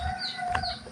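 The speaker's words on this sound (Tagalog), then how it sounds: "ayun manok namin at sa kanila" Chickens cluck on a farm, a short burst of close fowl calls.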